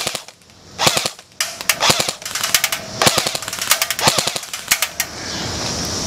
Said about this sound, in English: Now let's check the full auto accuracy here